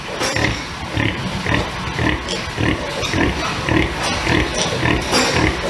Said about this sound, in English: You can hear she's really vocal in the crate